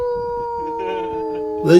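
Wolf howling in long, steady sustained tones, a clear drawn-out call held throughout, loud and near, ending as a voice cuts in.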